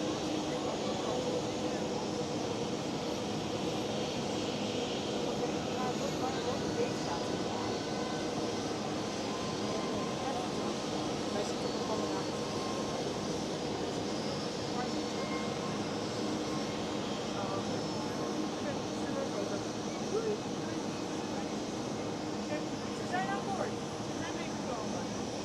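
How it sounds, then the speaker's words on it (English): A Delta Airlines Airbus A330 taxis out at Schiphol Amsterdam, its jet engines making a steady, fairly distant roar and rumble that holds for the whole stretch, with voices talking over it. "There goes Delta Airlines A330 taxiing out"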